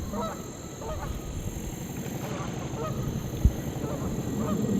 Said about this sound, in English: I hear the geese right over there.